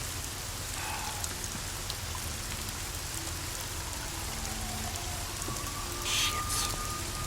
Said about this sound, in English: Let me get the sound of the rain.